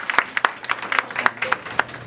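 Small audience at a live spoken-word performance event clapping for a performer, sparse, distinct hand claps in an irregular rhythm, close and fairly loud, with a voice speaking underneath.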